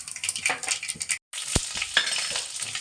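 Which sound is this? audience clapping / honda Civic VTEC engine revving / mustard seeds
mustard seeds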